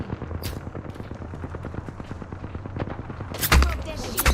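Rapid gunfire in a video game's story mode, a steady stream of repeated shots with a louder burst near the end, with some voice sounds mixed in.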